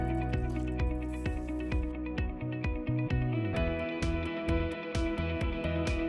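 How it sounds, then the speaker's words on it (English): Wet liquid sounds with irregular drips and squishy splashes as water is poured into a thick plaster mix with fine sand and crushed tree bark, fairly close and steady throughout. "Next, add some water and mix."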